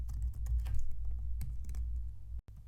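Steady close typing of Python code on a computer keyboard, with a quick run of soft key taps and a few heavier strokes over a low background hum, ending in a brief silent gap; no voices.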